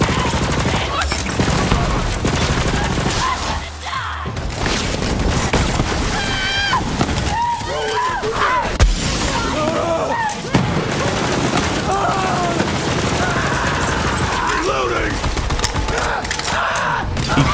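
A gun fires in Borderlands 3 as dense, rapid bursts of shots and impacts that go on almost without pause, with someone talking over the barrage at times.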